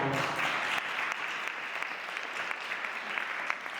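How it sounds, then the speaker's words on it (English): A symposium audience applauds a panel, steady dense clapping from many hands heard at moderate distance, slightly louder at the start and continuing throughout. "Give them a round of applause."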